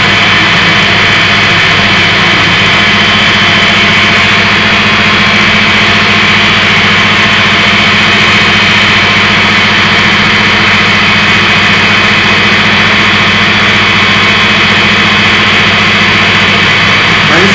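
Fuelless generator running off household electricity, a constant loud electrical-mechanical hum and whine with a steady low drone and no change throughout.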